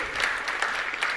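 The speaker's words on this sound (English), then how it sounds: "Can we give a big applause to him?" A crowd at a speakers' event applauds, a brief, even burst of many hands clapping close and fairly loud, with no talking.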